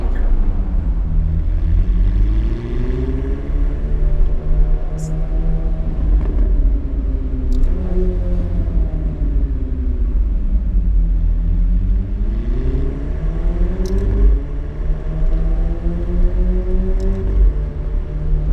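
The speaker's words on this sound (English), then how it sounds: "This is a toned down McLaren 765 LT." McLaren 765 LT sports car engine on a test drive, heard from inside the cabin as a steady, loud low drone whose pitch sweeps up and down through repeated acceleration surges, with no talking.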